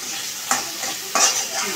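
Onion, chilli and garlic frying together in a home kitchen pan, a steady close sizzle broken by two short scraping stirs, no talking.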